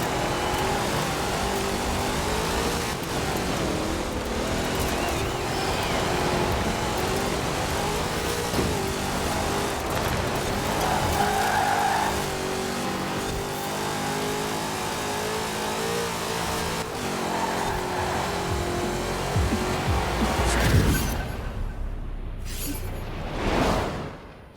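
A Chevy Camaro IROC-Z races in Forza Horizon 4. Its engine drones and revs loudly and continuously, rising and falling through gear changes, then cuts off abruptly near the end.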